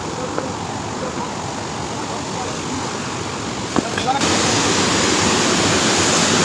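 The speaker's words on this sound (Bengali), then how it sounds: "নেমে নিচে হচ্ছে তুগ্গা ফলস।" Tugga Falls waterfall in Purulia after the monsoon, swollen with heavy flow: a constant broadband rush of water fills the scene, growing louder partway through, with a brief knock before the surge.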